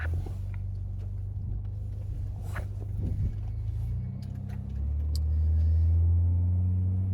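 A car with a loud aftermarket exhaust drives along, its low rumbling drone steady at first, then swelling into a deeper, stronger roar as it accelerates toward the end. No one talks.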